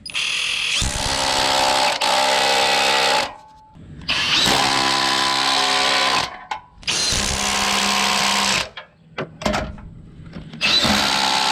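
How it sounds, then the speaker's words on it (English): Bursts of a power tool whirr loudly as body mount bolts are tightened on a Jeep JL Wrangler Unlimited, several long runs and a few short stuttering pulses separated by brief pauses. "I'm going to tighten these body mount bolts."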